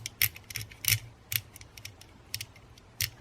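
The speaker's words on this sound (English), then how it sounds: "2 different rollers, and they click." Thumb rollers on a fidget gamepad toy give a run of crisp, close plastic clicks in uneven bursts, with short quiet gaps between them.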